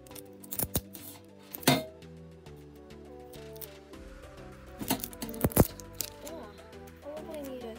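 Scissors snipping sellotape for a homemade bike-chain fidget toy, giving a few sharp close-up cuts and clicks over a light bed of background music or tones.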